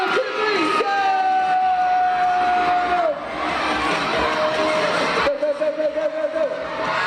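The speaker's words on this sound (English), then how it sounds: "Are you guys ready to cheer them on?" Children at an elementary school Red Ribbon Week kickoff cheer loudly during a relay race, a dense crowd of shrill, sustained whoops and screams filling the air, with an adult voice also heard.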